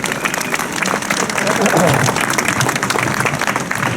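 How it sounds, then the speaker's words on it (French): Crowd applause after a song at an outdoor rally against an asylum and immigration law, a steady burst of clapping lasting a few seconds, with a voice briefly over it. "On peut l'applaudir."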